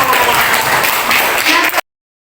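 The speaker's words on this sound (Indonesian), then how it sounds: "tepuk tangan untuk Fadwa." Loud, close classroom clapping from pupils during an Islamic-themed lesson, a dense burst of hand claps with children's voices mixed in, lasting under two seconds before cutting off abruptly.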